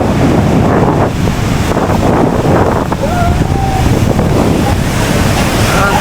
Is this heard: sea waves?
yes